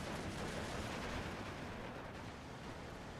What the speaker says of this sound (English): 50 mil mortar about to extract its vengeance on everything.